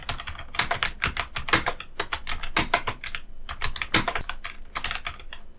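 Rapid typing on a computer keyboard while working in Microsoft Word, close and clear, with bursts of key clicks and a few heavier strokes like the enter key, no voices.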